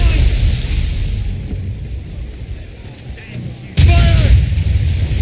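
Ship cannons firing during a naval battle in Assassin's Creed Rogue, with a single heavy boom near the end over steady wind and sea rumble.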